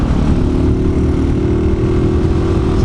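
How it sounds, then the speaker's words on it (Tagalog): Motorcycle engine misfiring from a dirty or wet carburetor, a loud continuous low rumble and drone that stays close and steady, with no voices. "Pumapalya yung motor ko"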